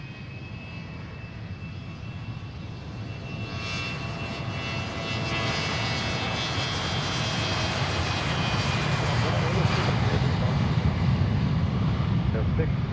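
A private jet departs Boeing Field, its engines rising from a moderate roar to a loud, sustained broadband rush with a passing whine as it climbs away.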